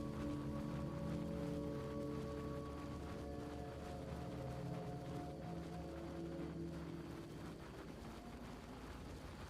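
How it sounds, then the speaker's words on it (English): Burning rain weather in the video game Kenshi, a steady, dense patter of rainfall under low droning tones that shift and fade partway through, with no talking. "Burning rain, says Kang."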